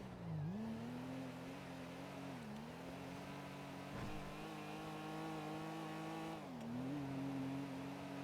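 A car drifting in GTA RP, engine droning at steady revs that dip and climb in repeated swells as it slides, continuous and fairly loud with no talking.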